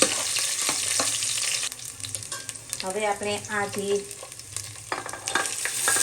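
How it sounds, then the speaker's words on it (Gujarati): Cashews, almonds, chironji and raisins fry in ghee for sweet zarda pulao, a steady sizzle broken by the scrape and clack of a spoon stirring the pan, with a brief stretch of speech over it midway. "હવે આ બધાને ચમચાથી મિક્સ કરી લેવાનું છે."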